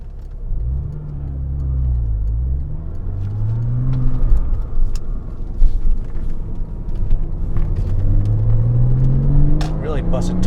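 2007 Porsche Cayman S driving on the road, engine revving up and down through gear changes from inside the car, with a rising and falling growl, rumbling road noise and occasional knocks and clicks.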